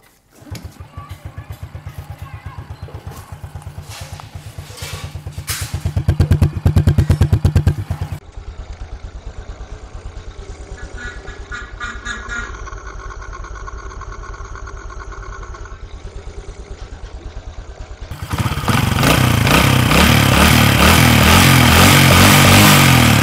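A Honda Future FI motorcycle engine runs steadily at close range, a mid-pitched idle that rises briefly before settling and picking up again, with no talking.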